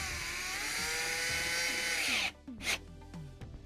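A power driver tightens a hose clamp on a Yukon's cooling hose, a loud whine that rises in pitch over two seconds, then cuts off, followed by a short burst and softer mechanical clicks.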